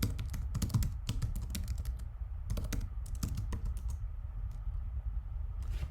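Quick clattering keystrokes on a computer keyboard in irregular bursts with short pauses, close and quiet, no talking.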